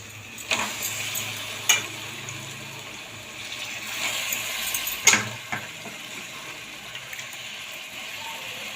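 Washed, cleaned chicken goes into a hot pan for a gravy, a continuous loud sizzle with a few sharp spoon knocks against the pan as it is stirred, close by and without talk.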